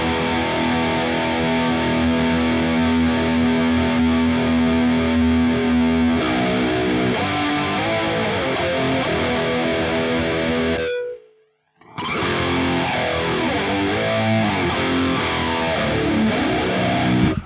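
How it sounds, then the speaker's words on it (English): Electric guitar played through a Neural DSP Archetype Petrucci plugin with chorus placed before distortion gives a loud, shimmering, saturated tone, held chords, then a short silence before the riffing resumes. "So chorus before the distortion."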